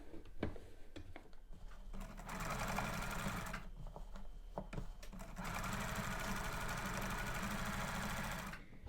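A sewing machine hums in bursts while understitching around the curved neckline of a practice garment, running in stretches with short pauses between, close and steady, with no talking.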